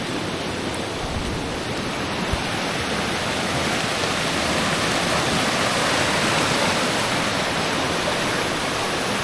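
A West Virginia creek swollen by heavy rain rushes past in a loud, continuous broadband roar, close and unbroken, with no voices over it.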